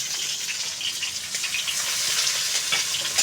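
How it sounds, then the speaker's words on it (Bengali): Potato pieces fry lightly in an oily pan, giving a steady, close sizzle that holds even and unbroken for the whole stretch. "আলুগুলো হালকা ভেজে নেব, হালকা একটু নেড়ে চেড়ে নিয়েছি ভাজা করে"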